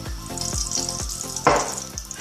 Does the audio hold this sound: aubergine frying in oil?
yes